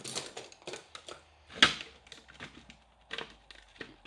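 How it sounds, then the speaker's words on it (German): Christmas baubles being unpacked from their packaging, with a string of close, sharp clicks, rustles and taps at an irregular pace, one louder knock near the middle, no talk. "dann kann ich mal meine Kugeln auspacken"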